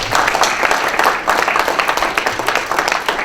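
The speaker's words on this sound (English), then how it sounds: "Let's give him another round of applause." Clapping from an audience at an opioid crisis information event, continuous and fairly loud, a thick sustained patter of many hands with no pauses.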